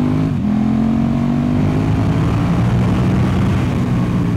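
A KTM 1290 Super Duke R motorcycle on the road, its engine droning loud and close under rushing wind, pitch climbing steadily as it accelerates through the gears.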